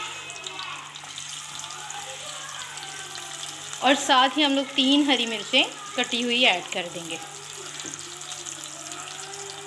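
A tempering of medium onion, cumin and chopped green chillies fries in a pan for dalia, giving a steady, soft sizzle throughout while a voice talks over the middle section.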